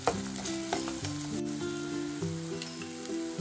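Masala paste sautéing in hot oil for a hotel-style mushroom curry, a steady soft sizzle and frying crackle with occasional stirring scrapes of a spoon in the pan.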